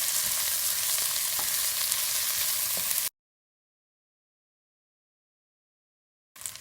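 Whole and broken chestnuts sautéing in a pan for a festive pilaf give off a steady, close sizzle with faint stirring scrapes for about three seconds, then the sound cuts to silence before a brief return.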